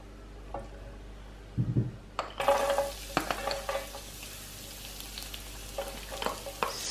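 Garlic hits a hot pan and sizzles, stirred with a few scraping and clinking touches; a faint low hum runs beneath, the sizzle soft and close without any voices.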